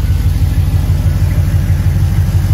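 A 1977 Chevy Suburban with a swapped-in LS V8 idles close by, a loud, steady low rumble with an even, throbbing pulse and no talk over it.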